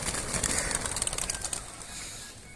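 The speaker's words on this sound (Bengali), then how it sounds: "এখন ছাড়া হচ্ছে, এগুলো আমার সব মাদি কবুতর।" Female racing pigeons are released and flap their wings in a close, fluttering burst that fades over a couple of seconds.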